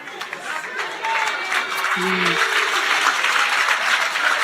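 A church congregation applauds during a sermon, a steady roomful of clapping hands with a voice speaking over it.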